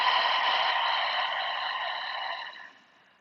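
A long, steady breath pushed out through the mouth during yoga breathing, close and soft, trailing away at the end with no speech.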